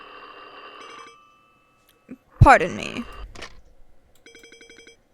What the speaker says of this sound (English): Oh, phone call. Let me answer it.